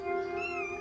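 A cat meows once in a sustained, tonal call with a rising then falling pitch, close and clear with no talking over it.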